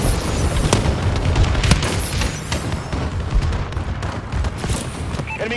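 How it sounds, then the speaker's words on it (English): Continuous dense booms and rapid gunfire from a friendly bombing run during a Hardpoint match in Call of Duty: Advanced Warfare, loud and sustained with overlapping explosions and bursts throughout. "Friendly bombing run incoming."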